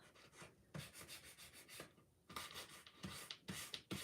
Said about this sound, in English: So I'm just going to sand them a little bit, not a lot,